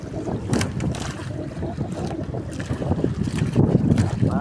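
Waves buffet a small boat at sea in rough water, with steady wind rumble and irregular slaps and splashes against the hull, close and continuous, wind noise on the microphone, and faint voices mixed in.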